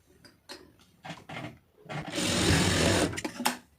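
A sewing machine stitches blouse fabric, opening with a few short bursts of needle clatter, then a sustained loud run of stitching for about a second before tapering off.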